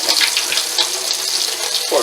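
Tap water splashes into a kitchen sink as almonds are rinsed, a close, bright and uneven gush with small spatters and a brief clink near the end.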